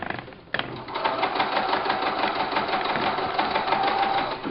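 A sewing machine runs steadily as it stitches a fabric pouch, giving a close, continuous whirring buzz that starts after a brief knock and keeps an even pace throughout.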